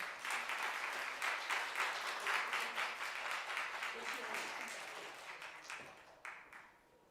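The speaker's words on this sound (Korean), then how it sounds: "큰 박수로 단해 모시겠습니다" An audience at a lecture claps to welcome a speaker to the stage, a steady wash of many hands for several seconds that thins out and fades near the end.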